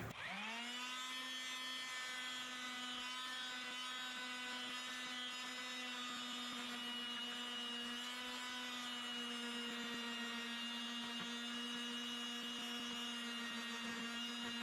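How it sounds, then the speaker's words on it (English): A power sander works the hood latch area of a CFMOTO ZForce 950 Sport side-by-side, giving a steady, loud, unbroken whine with a constant pitch that runs for the whole stretch alone, with no talking. "all I'm going to do is just sand this down"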